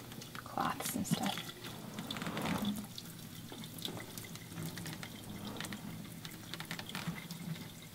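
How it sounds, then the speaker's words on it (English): Excess fat being drained from cooked beef in a pot, heard as a steady, faint pour and trickle of liquid. "I'm just gonna go ahead and drain it to get rid of the excess fat"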